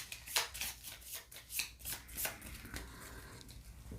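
Cards from a Five Nights at Freddy's: Survive Till 6AM board game deck are shuffled up close. Quick, crisp riffles repeat in a steady rhythm, then trail off into a softer rustle.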